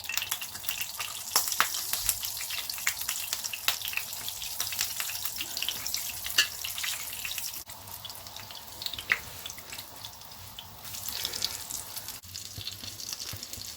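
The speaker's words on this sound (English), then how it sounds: "On medium heat, put the kebabs in." Vegetable seekh kebabs fry in a pan on medium heat, giving a constant crackling sizzle with bright spits and pops throughout, briefly dipping in level near the middle and rising again.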